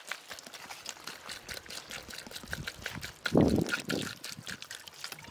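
Water is poured onto palm fruit pulp while making palm fruit halwa in a village kitchen, a short splashing gush rising briefly after quieter handling noises, close and fairly soft.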